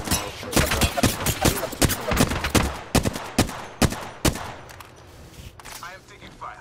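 Rapid gunfire in the battle royale shooter Apex Legends, loud close bursts and single cracks firing in an irregular rhythm before thinning out, with a brief voice near the end.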